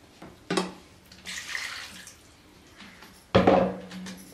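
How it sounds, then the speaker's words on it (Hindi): Water splashes and pours in two short bursts into a pot of mutton karahi, the second louder, with quiet stretches of trickling between. "इसमें पानी डालेंगे तकरीबन 2 गिलास"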